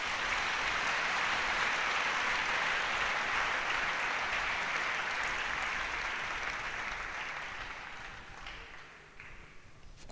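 A church congregation applauding, a broad sustained clapping that holds steady for several seconds then gradually thins and fades toward the end, no talking over it.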